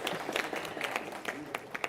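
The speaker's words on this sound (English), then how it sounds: "I request everybody to kindly give a big round of applause, please." A conference audience at an Indian chemicals and petrochemicals industry event claps in a short burst of dense applause, heard from a moderate distance alongside faint voices.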